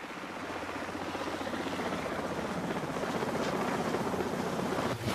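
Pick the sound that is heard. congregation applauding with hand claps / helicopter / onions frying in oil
helicopter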